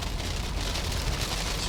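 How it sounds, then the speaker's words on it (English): Heavy rain drumming on a moving electric car during a highway road trip, a dense steady hiss and patter with low road rumble, fairly faint and continuous with no talk. "it's raining so hard, I wonder if you can actually hear me"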